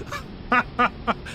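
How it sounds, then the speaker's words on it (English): Quacking bursts from birds being spun in a chicken spinner in Farming Simulator 22, four to five short, loud, nasal calls in an uneven rhythm over a quiet background. "Well, this is a chicken spinner."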